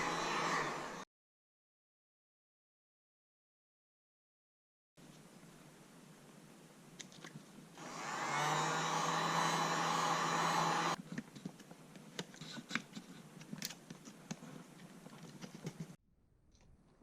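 A heat gun warms vinyl wrap on a BMW i3 center console, blowing a steady airy whoosh for a few seconds after a short silence, followed by light clicks and handling noises.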